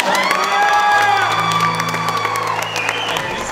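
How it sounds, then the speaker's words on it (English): Wedding guests cheer and applaud the newlyweds, a dense wash of clapping mixed with whoops and high shouts from a close, lively crowd, sustained throughout with a low tone running underneath. "let's give them one more round of applause"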